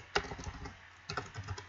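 Computer keyboard keys clatter in two short bursts of typing code, quiet and close, with a brief pause between them and no voices.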